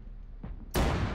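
A tank cannon firing in the military video game Arma 3, a single sharp, loud blast that bursts out suddenly and rings on, following a quieter thud moments earlier.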